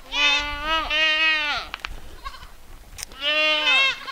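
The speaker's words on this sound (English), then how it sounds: "So let's go let the goats out." Farm goats let out to graze give loud, close bleats: two long wavering calls, a pause filled with rustling and a brief click, then a third bleat.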